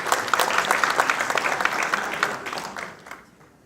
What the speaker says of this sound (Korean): 함께 경례의 박수를 보내드리도록 하겠습니다